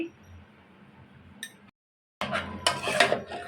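Rice being stirred with panch phoron spices in a pot, metal spoon scraping and clinking against the pot in short bursts, with a brief silence partway through.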